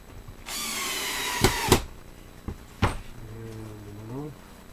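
A small power driver whirs in short bursts while screws go into a wooden doll crib during assembly, with a few sharp knocks and clicks between runs and a quieter, slowing whine near the end.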